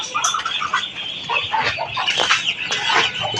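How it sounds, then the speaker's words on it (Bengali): Young poultry chicks cluck and cheep continuously and fairly close, in busy overlapping calls with no talking. "ওই যে হচ্ছে আমার পাঁচটা পোলট্রির বাচ্চা"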